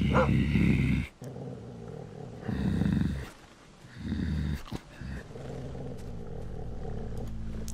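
A dog in The Walking Dead video game growls low and rough in three or four sustained bursts separated by short pauses, close and fairly loud, with no talk over it.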